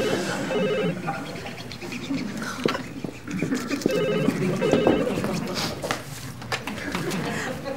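Telephone ringing in a Turkish TV series office scene: repeated electronic ring tones under people talking, moderately loud amid background chatter and movement.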